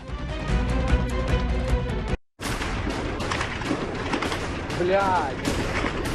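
Air defense guns fire at Russian missiles over Kyiv during the war in Ukraine. Repeated booms and bursts of gunfire sound in the distance, with a short break partway through. People speak over the firing.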